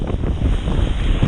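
Strong wind buffeting the microphone with waves and water rushing past while kiteboarding on a 12m Duotone Switchblade kite with a Spike board, loud and continuous with no talk.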